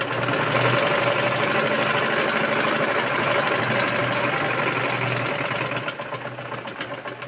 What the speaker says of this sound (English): I'm going to sew straight down. Then like this, and another straight down.